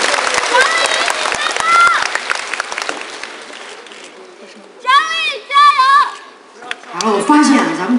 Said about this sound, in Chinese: 掌声再次送给他